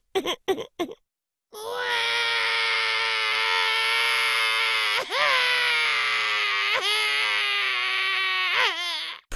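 After a few short whimpers, a loud, sustained wailing cry goes on for several seconds, broken by brief sobbing catches in the breath.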